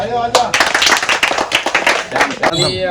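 An audience at a children's fort-model and rangoli competition claps in a burst of uneven, close applause, with a voice speaking over the start and end.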